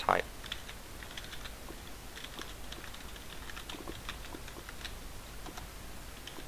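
Light, quiet clicking of a computer keyboard runs steadily for several seconds as someone types chat during a Minecraft paintball game, with one slightly louder tap at the start.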